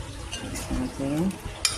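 Tofu and bangus being stirred with sauce in a pan, giving a soft scraping, sloshing stir with a faint sizzle and a light clink of the utensil near the end.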